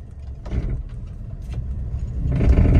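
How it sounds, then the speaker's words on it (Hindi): A Suzuki WagonR with a grinding noise from the driver side, heard as a low engine and road rumble that builds in loudness toward the end, with brief rattling bursts, close by. "अचानक गाड़ी जोर लगाए या किसी ने चढ़ाई वाली जगह पे चढ़े तो ना गर गर आवाज, बड़ी गंदी आवाज आती है ड्राइवर साइड से"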